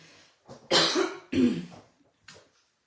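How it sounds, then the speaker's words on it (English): Two sharp, close coughs in quick succession, followed by a small throat-clearing sound, with silence around them. "excuse me for coughing"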